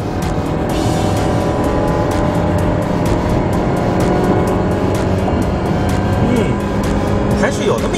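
A 2012 Chevrolet Malibu with a 137 kW 2.4-litre engine pulls hard under full throttle, a steady loud drone with road and tyre noise throughout, with a voice talking over it.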